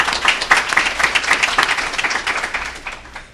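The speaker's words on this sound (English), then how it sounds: "How about a round of applause for the people who worked hard to make that happen?" An audience at a job training programs event applauds loudly and steadily, many hands clapping close together in a dense burst that gradually thins out near the end.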